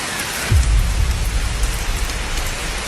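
Rain falls steadily outside a house at night, a dense patter on surfaces with a low rumbling thump near the start, likely distant thunder, then an even wash of drops; no voices.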